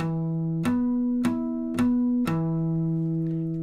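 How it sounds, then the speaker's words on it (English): Four bell-like guitar harmonics are struck one after another at a steady pace, each chiming clearly and ringing on over the others. "what's called a harmonic series ringing out in the string"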